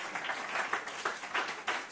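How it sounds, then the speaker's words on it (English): Scattered, moderately faint applause rises from an audience at a talk, with uneven bursts of individual claps through a continuous patter. "That would be a good place to clap."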